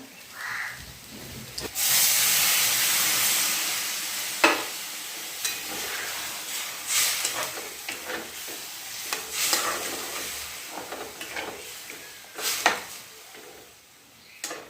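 Water poured into a hot pan of bitter gourd with tamarind bursts into loud hissing steam, then settles into sustained sizzling and bubbling with occasional clinks of stirring.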